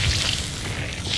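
A fire spell cast in the Hogwarts Legacy video game gives a loud, sustained booming whoosh with a heavy low rumble and bright crackling hiss, holding steady for about a second.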